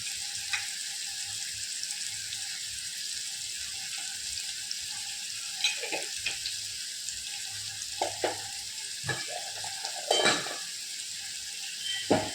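Spices and ground turmeric powder with salt sizzle in hot oil in a home kitchen, a steady frying hiss broken by clinks and scrapes of a stirring spoon against the pan.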